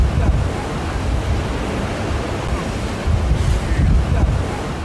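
Sea waves wash onto a beach in a continuous roaring surge, with wind buffeting the microphone and swells rising and falling, loud and close with no voices.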